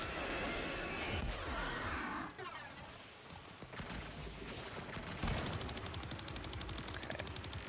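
Rapid automatic gunfire in the Warframe video game, loud, dense bursts that run almost without pause, with a fast rattling stretch near the end and no voice over it.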